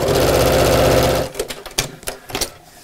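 A sewing machine runs along the edges of a tote bag, a loud close rapid stitching hum for just over a second, then stops, followed by scattered fabric handling knocks and rustles.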